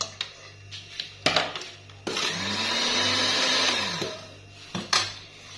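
An electric mixer whirs through chocolate biscuit batter in a steady motor drone of about two seconds. Sharp clinks and taps of the beaters against the bowl come before and after it.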